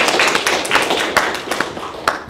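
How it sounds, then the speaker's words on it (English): Applause from a crowd at an art history paper presentation, a dense patter of claps filling the whole moment, steady and fairly loud with no voices over it. "let's give a warm round of applause to Allie Hessler"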